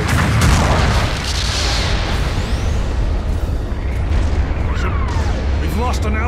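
Explosions in the mobile suit combat game Mobile Suit Gundam Battle Operation 2 boom loudly amid continuous battle noise, with game voice announcements and other effects layered over the blasts.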